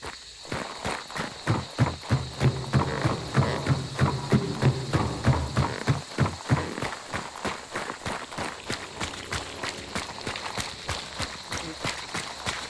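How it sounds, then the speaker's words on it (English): Rhythmic running footsteps pound steadily across a bridge in the Hunt: Showdown video game, each step sharp and close with a hollow clop, continuing for the whole stretch over changing surfaces. "All we're going to do here is just run for about 15 seconds across this bridge and on a bunch of different surfaces."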